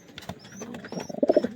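A Saharanpuri male and a Golden female pigeon coo close by, soft throaty calls that build into a few louder, rounder coos toward the end, with no talking.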